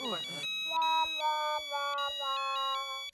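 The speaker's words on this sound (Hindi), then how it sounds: "किसका फोन बज रहा है?" A phone ringtone plays a repeating melodic tune, clear and steady, after a brief burst of speech at the start.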